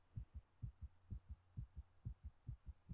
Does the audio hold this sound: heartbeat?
yes